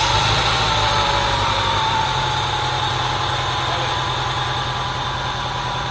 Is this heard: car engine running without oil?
yes